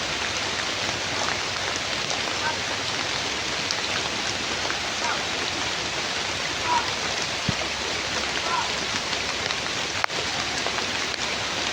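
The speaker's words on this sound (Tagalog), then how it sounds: "Grabe, napakalakas ng ulan." Heavy rain pours down in a steady, dense roar of broadband hiss with scattered drop impacts, loud and continuous throughout, with a single sharper knock near the end.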